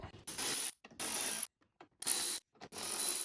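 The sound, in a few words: ratchet removing T30 bolts on BMW 135i front bumper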